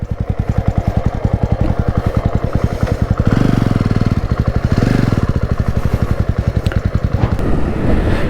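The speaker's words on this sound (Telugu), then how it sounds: "చాలా లౌడ్ ఉంది బైక్ అయితే." A loud 2024 Jawa Classic 350 motorcycle engine runs nearby with a steady, rapid thumping exhaust beat, swelling briefly twice as the throttle opens a little before settling back.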